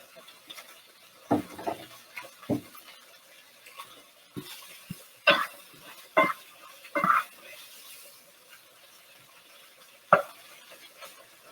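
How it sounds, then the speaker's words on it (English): Pasta in a pot is stirred and tossed, with scattered scrapes and clinks of a utensil against metal coming in short irregular bursts over a quiet background, with a person talking. "So we'll mix the pasta again."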